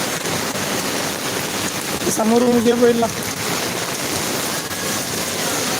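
A heavy downpour in Singapore keeps up a constant close roar while someone speaks briefly over it.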